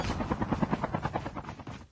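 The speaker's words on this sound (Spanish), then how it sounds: "Agarra en el helicóptero." A helicopter in Call of Duty Mobile thrums with a rapid, steady rotor chop, loud and close across the whole brief stretch with no talk.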